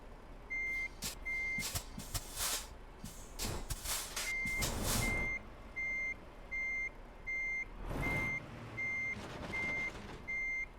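A truck in Euro Truck Simulator 2 backs up, with steady evenly spaced reversing beeps over a low engine drone and several bursts of air hiss and clunks through the clip.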